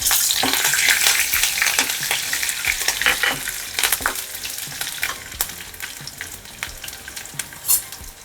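Curry leaves crackle and sizzle sharply as they hit hot oil in a pan while preparing savory semolina sanja, a dense steady frying hiss with quick pops and stirring scrapes throughout, close and fairly loud.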